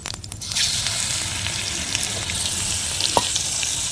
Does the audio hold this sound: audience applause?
no